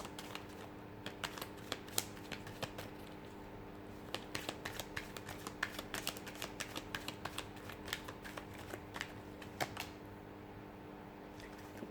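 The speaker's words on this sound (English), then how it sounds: "So we'll give the cards a shuffle" Tarot cards being shuffled, with soft repeated riffling flicks in quick bursts against a steady low hum, close and fairly quiet, no talking.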